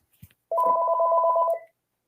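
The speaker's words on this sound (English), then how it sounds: "I don't know how to silence my real phone." A mobile phone rings during a seminar, a single electronic two-tone burst lasting about a second after a brief faint click, otherwise quiet.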